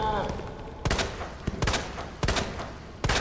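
Gunfire in the video game Resident Evil 2 during a boss fight, several loud, sharp shots spaced about half a second apart, with a player's voice briefly audible.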